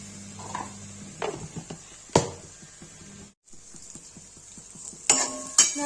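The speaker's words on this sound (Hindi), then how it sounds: "ये चला देंगे।" Onions fry in a pan for mushroom do pyaza while a spoon stirs and scrapes through them, with several sharp clacks against the pan over a light sizzle and no talking.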